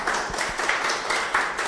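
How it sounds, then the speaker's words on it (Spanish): A conference audience claps briefly for a speaker, with scattered, fairly faint hand claps over a short moment. "Démosle un aplauso para que inicie con su conferencia."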